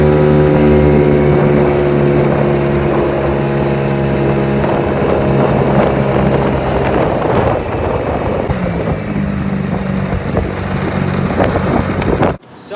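A Taotao bike's small engine running, a loud, steady buzzing drone with shifting pitch and some wind buffeting on the microphone, close to the recorder, cutting off abruptly near the end.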